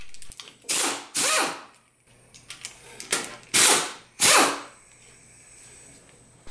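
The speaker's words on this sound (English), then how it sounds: "Use an impact wrench with an 8mm hex to remove the 8 inner cover retaining bolts." Impact wrench with an 8mm hex driving out the inner cover retaining bolts on an MWS pump, heard as four loud, short mechanical bursts of rattling hammering separated by quieter clanks and pauses.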